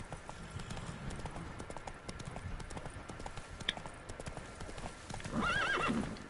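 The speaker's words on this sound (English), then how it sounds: "You're not my horse." Rhythmic hoofbeats of a horse in the video game The Witcher 3 clop steadily at a gallop, then the horse lets out a loud, wavering neigh near the end.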